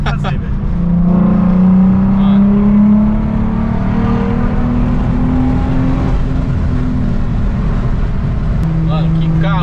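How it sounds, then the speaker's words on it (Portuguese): A lowered Volkswagen Passat on air suspension roars close by, its engine revving up and holding a deep, loud drone, with someone talking over it. "Viver com o ronco desse carro, velho."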